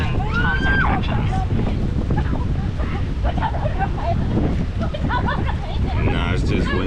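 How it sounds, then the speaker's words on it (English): Strong wind buffets a microphone outdoors at a beach in Pattaya, a constant loud low rumble with gusty crackling that runs the whole time, with people talking over it. "it's just windy outside. There's a little wind going on."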